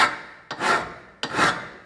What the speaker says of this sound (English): we've filed that down quite nice and flat now, so we've thinned out that metal